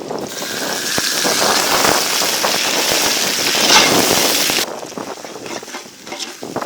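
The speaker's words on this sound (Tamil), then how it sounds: "வெங்காயம் நல்லா வதங்கிடுச்சு அடுத்து இஞ்சி பூண்டு பேஸ்ட்டு போட்டுப்போம்" Onions sautéing in oil with ginger garlic paste for a chicken biryani cooked inside goat intestine: a dense, steady sizzle with scraping stirs, which drops to a quieter fry partway through.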